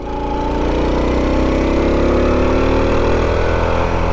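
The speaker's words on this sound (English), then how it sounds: "Hopefully you can hear some good engine sounds of this thing too." A 1984 Honda Trail 110 motorcycle engine runs close by with a loud, steady throbbing rumble, its pitch drifting slightly as it idles and revs.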